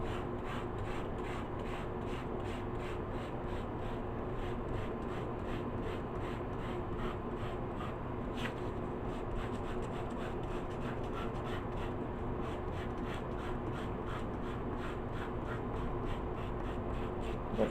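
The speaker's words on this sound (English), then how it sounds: "take out one of your pieces of chalk. You're going to hold it, lay it flat down on it, and just rub it across the back of where your texts are" Chalk held flat and rubbed across the back of printed paper, a steady continuous scratchy rasp that keeps going without pause for the whole stretch, close and fairly even in loudness.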